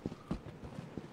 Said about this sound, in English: I think that was our footsteps